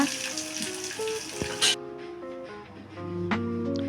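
Onion frying in oil in a pan while making Bombay chutney, a broad hiss that cuts off sharply partway through, with clattering utensil knocks and a low hum underneath.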